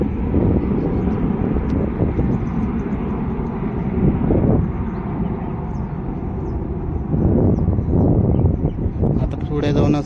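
Aircraft taking off at Navi Mumbai international airport, a loud continuous jet engine roar heard from nearby, sustained throughout with wind buffeting the microphone.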